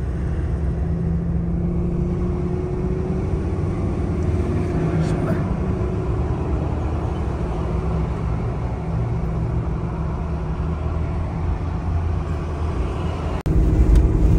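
City traffic in Atlanta is heard from inside a moving car as a low, steady road rumble with passing vehicle noise, ending in a sharp bump near the close, while someone talks over it.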